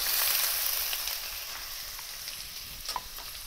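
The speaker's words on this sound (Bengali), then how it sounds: "পেঁয়াজটাকে একটু ব্রাউন করে ভেজে নিতে হবে।" Sliced onions frying in hot oil with cardamom, peppercorns, cinnamon and cloves for chicken do pyaza, a close, loud, steady sizzle with a few faint pops, softening slightly toward the end.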